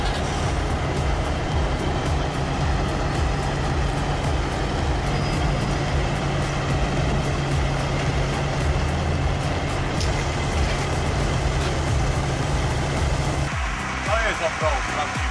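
A Kenworth log truck stuck deep in a muddy forest ditch, its heavy engine droning loud and constant, with a narrator's voice running over the noise.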